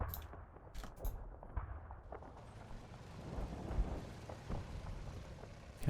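Gunfire in the WWII Normandy tactics game Combat Mission: Battle for Normandy, with distant booming shots and rumbling blasts scattered over a low, continuous battle ambience.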